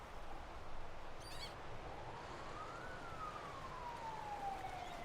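An ambulance siren wails at a distance, its rising and falling tone faint over a steady low rumble of background noise, with a brief birdlike chirp early on.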